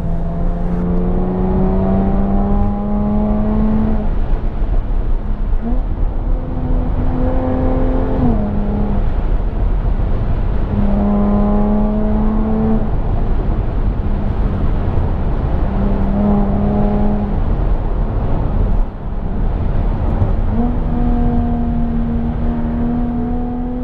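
A Jaguar F-Type R-Dynamic coupe drives at speed, its engine droning loudly and steadily with several rising revs and gear shifts over constant road and wind roar, close up inside the car, with no one talking.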